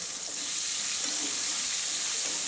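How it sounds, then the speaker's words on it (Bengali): Chopped onions fry in a pan for a rohu fish kalia. They give off a steady, even hiss that stays at the same level throughout, close up, with no voices. "পেঁয়াজটাকে একটু লাল করে ভেজে নিতে হবে"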